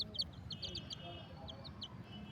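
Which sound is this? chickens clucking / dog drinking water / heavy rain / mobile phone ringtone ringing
chickens clucking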